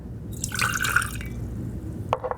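Champagne vinegar is poured into a jar for a salad dressing, making a short, close liquid trickle with a few drips at the end.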